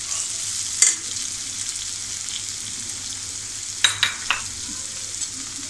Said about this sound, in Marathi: मी एक मोठा टॅमॅटो घेतला आहे, तो पण थोडा आपण परतूया